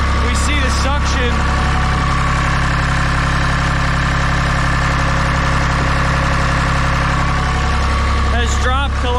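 A dual drum vibratory roller's engine sits at idle after running several minutes, a steady low mechanical drone held the whole time, with a person talking over it near the start and end.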